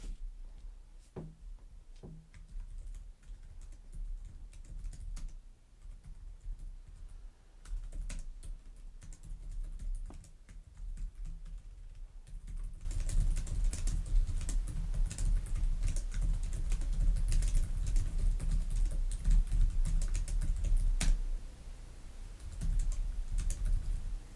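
Rapid typing on the keyboard of a 2025 ASUS Zephyrus G14 laptop with separated keycaps, a steady stream of light clicks that grows louder and denser halfway through, with no talking.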